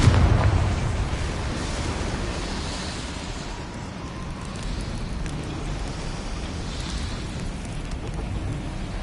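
A Confringo fire spell explodes in the Hogwarts Legacy video game, a loud low boom with a rumbling, crackling tail that slowly settles into a sustained roar of debris and fire.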